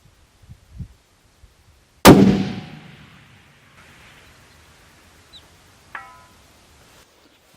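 A single sharp rifle shot cracks and rolls off in a long echo, followed about four seconds later by a faint, distant ring of the bullet striking an 18 by 24 inch AR500 steel target at 1,000 yards.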